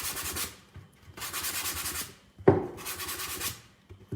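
Sandpaper rubbing over a cardboard shoe box: three rhythmic scratchy strokes, each about a second long, with a sharp knock partway through, close and alone.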